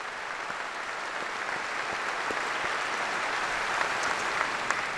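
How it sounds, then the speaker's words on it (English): A large crowd applauds steadily for the whole stretch at an American political event, a dense, even wash of clapping that swells slightly toward the end, with no talk on top. "give yourselves a round of applause for all you do"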